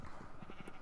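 Sheep bleating in the Minecraft video game, a faint, brief bleat heard against a dense, noisy background.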